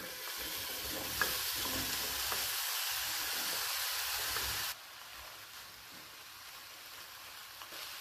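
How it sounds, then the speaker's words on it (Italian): Cubed eggplant sizzling and frying in a very hot non-stick pan on a gas stove, a steady close hiss that drops noticeably quieter partway through, with no one speaking. "La padella è bella calda e quindi versiamo all'interno le melanzane."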